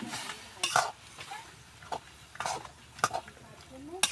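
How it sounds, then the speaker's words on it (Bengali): Fish and green chilies are stirred together in a pan, heard as a few scattered metallic scrapes and clinks of a utensil against the pan under a quiet background, fairly close. "এর মধ্যে আমি মাছ আর কাঁচা লঙ্কাগুলো ঢেলে দিয়ে দেবো দিয়ে আমি একসঙ্গে ভালো করে মিশিয়ে নেব"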